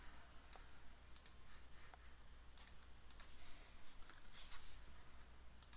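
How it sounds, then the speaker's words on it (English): A quiet run of light, sharp computer clicks comes in irregular bursts against a soft background hiss, with no one talking. "I'm going to click Save."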